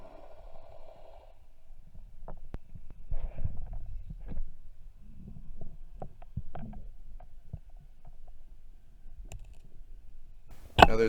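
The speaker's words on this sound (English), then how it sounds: "my camera actually picked up my heartbeat" Faint, irregular thumping pulses picked up underwater by a spearfishing diver's camera off Newport, Oregon, with scattered clicks and a low rumble of distant boat noise in the background.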